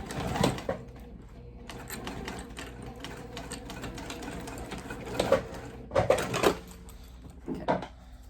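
A sewing machine runs stitches on a backpack, a steady whirring hum broken near the end by several louder bursts of rapid mechanical stitching close by.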